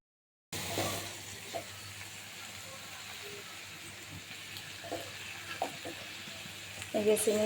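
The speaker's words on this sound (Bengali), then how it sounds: "মাছগুলো সুন্দর করে ভাজি করে নিচ্ছি" Fish fries in a pan with a continuous close sizzle and hiss, occasional utensil taps, and a brief voice near the end.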